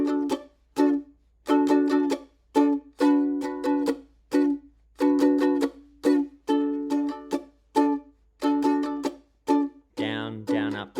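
Reggae guitar strumming with the first strum of the bar delayed to the upbeat, choppy chords in a steady rhythm separated by short silences, close and clear, ending on a sustained ringing chord.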